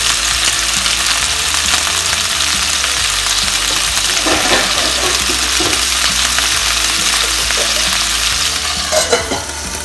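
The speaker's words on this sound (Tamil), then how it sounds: "இப்போ இதை வந்து ஒரு நல்லா எல்லாம் நல்லா குக் ஆகிற வரைக்கும் மேஷ் ஆகிற வரைக்கும் ஃப்ரை பண்ண போகிறோம்." Green chillies fry in a hot pan for a spicy chutney, giving a steady, loud sizzle and crackle throughout, with occasional scraping stirs and clinks of a spatula near the end.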